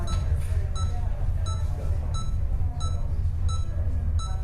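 An in-game wall phone in a medical simulation rings in short, evenly spaced electronic bursts, repeating about every two thirds of a second over a low background hum.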